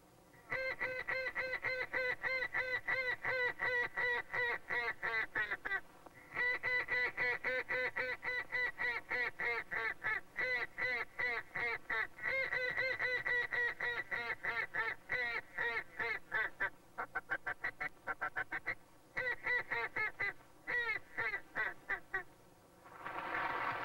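A retired, undefeated world champion duck caller imitates ducks with a call, producing loud, rapid runs of quacks and honking chatter in repeated bursts separated by short pauses.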